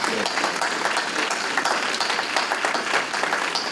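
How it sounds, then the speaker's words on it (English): Audience applause fills the room at an alumni breakfast, a steady dense wash of many hands clapping at once, loud and sustained without pause. "So let's give them a round of applause."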